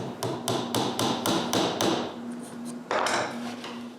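Wooden alignment dowels are tapped into place with a hammer during work on an edge sander build: a steady run of about nine sharp knocks, then a pause and one final blow, close by with no talk.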